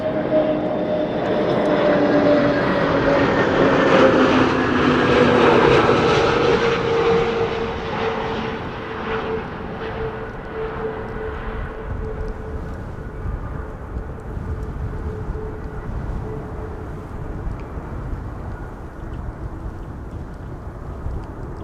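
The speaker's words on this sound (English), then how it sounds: "KLM flight 1404, banking left and right. Arrival from Paris, A321neo" KLM Airbus A321neo arriving from Paris and landing in strong wind at Amsterdam Schiphol, a loud close engine roar with a whining tone that swells, then fades into a lingering lower rumble as it passes.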